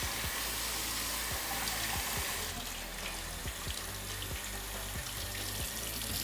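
Hot water runs steadily from a bathroom sink faucet during a home inspection, a constant close splashing hiss, with occasional clunks and knocks underneath as the flow continues.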